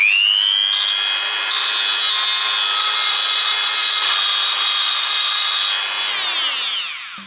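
A high-pitched rotary tool fitted with a hard rubber polishing bit, used for knife sharpening, whines steadily at a constant speed for several seconds, then winds down as the motor stops.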